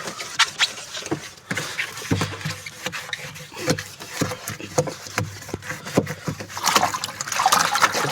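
Water runs and splashes while a guppy tank is scrubbed clean, with a continuous trickle broken by repeated rubbing and scraping strokes, close and moderately loud.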